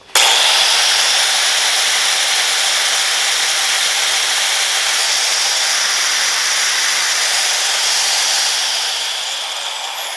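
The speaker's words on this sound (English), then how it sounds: "Pretty quiet, pretty quick startup." A Hercules 4 1/2 inch angle grinder runs at full speed, a loud steady high-pitched whine that starts abruptly and holds evenly before easing slightly near the end, with no talking.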